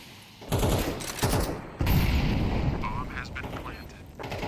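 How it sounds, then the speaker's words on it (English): Pistol gunfire, including a Tec-9, in a Counter-Strike pro league match: bursts of rapid, loud shots and clattering fire in quick clusters, with a voice talking over the action. "Just a bunch of pistols."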